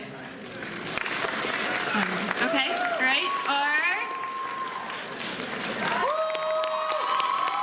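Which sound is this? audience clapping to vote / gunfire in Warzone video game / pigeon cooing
audience clapping to vote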